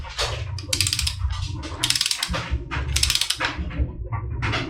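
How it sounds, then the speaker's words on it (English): A torque wrench set to 43 foot-pounds tightens bolts, with steady ratcheting clicks in rapid bursts close by, loud and continuous with no talking. "got our torque wrench set to 43 foot-pounds"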